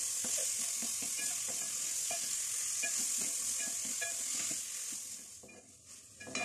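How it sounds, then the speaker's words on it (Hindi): Marinated chicken fries in hot oil in a pan, giving a steady loud close sizzle with rhythmic stirring and scraping throughout. The hiss eases slightly near the end, and no one speaks. "जैसे ही ऑयल गर्म होता है तो जो मैरिनेट किया हुआ चिकन है ये सारा डाल देंगे।"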